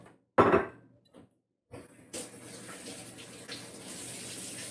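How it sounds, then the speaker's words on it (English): Kitchen tap turns on with a knock and a splash, then water runs steadily into a sink for rinsing hands, a continuous hissing flow after a few short clunks. "I'm going to go rinse my hands off"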